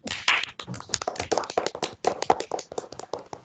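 During a virtual Karnataka Rajyotsava celebration call, hands clap in a rapid, uneven patter of close, sharp claps that runs continuously for several seconds with no talking over it.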